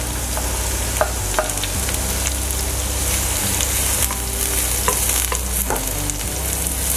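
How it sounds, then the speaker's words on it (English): Finely chopped onion sizzling in hot oil in a pan, a steady close frying hiss with occasional stirring clinks and pops throughout. "Now I'll first add the chopped onions into the oil."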